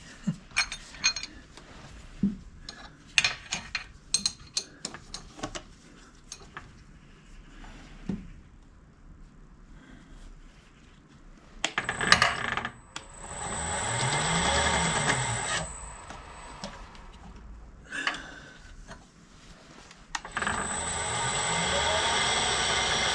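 Machine noise rises and falls as a face mill arbour spins on a metalworking machine, with a steady whirring hum in two longer stretches, preceded by clanks and handling knocks nearby.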